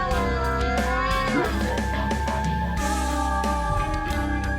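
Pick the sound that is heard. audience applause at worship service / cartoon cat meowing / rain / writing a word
cartoon cat meowing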